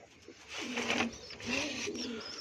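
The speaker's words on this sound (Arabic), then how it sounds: "بصوا كل الحمام بدأ اللي هو ياكل زغاليله" Pigeons feeding their squabs give a soft, low cooing close by, two murmuring phrases in quiet surroundings.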